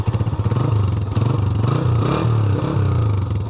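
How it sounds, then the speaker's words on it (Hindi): A running motorcycle engine with its normal stock silencer, a loud, close, steady mid-pitched idle with rhythmic exhaust pulses and slight revving swells, no voices over it. "तो ये हमारा जो बाइक है ये स्टार्ट हो चुका है और इसकी जो नॉर्मल आवाज़ है वो आपको सुनाते हैं कि इसकी"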